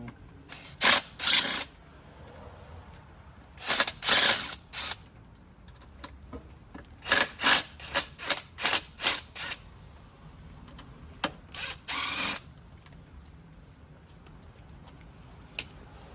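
Ratchet clicking in short rapid bursts while a handlebar is removed from a Suzuki SV650 motorcycle, several quick clusters of sharp ticks separated by pauses, close and fairly loud over a quiet background.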